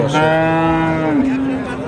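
A cow lows once in a long, loud, close moo that bends in pitch near its end, amid a crowded cattle market in Naogaon where cows and calves are sold.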